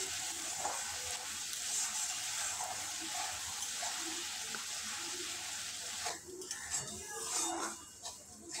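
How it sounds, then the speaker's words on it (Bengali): Spice paste sizzles and fries in oil for a bata fish curry, giving a steady close hiss with occasional stirring scrapes, while a voice talks faintly underneath. "ভালোভাবে মশলাটা কষিয়ে নেব।"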